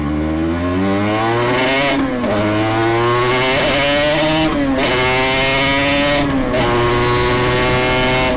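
A rebuilt Yamaha TZR 250 3XV two-stroke motorcycle is ridden on a road, its loud, buzzy engine rising through the revs and dropping on gear changes about three times as it pulls away.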